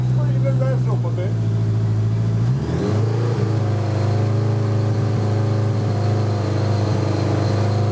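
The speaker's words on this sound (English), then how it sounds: "Bring the revs up a bit." A Honda motorcycle engine with a charging fault idles with a low steady hum, then the revs rise in a sweep and hold at a higher, even drone, loud and close, with talk over it.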